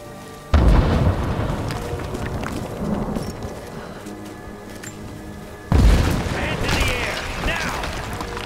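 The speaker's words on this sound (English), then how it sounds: "Gunshots!" Heavy booms from explosions and gunfire in the video game Rise of the Tomb Raider hit in two loud bursts, each followed by rumbling, clattering action and some game voices.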